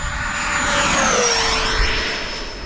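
An RC AEROFOAM L-39 jet model running on 6s LiPo batteries sweeps past on a low tailwind pass, its ducted-fan whine loud and steady with a pitch that drops as it flies by.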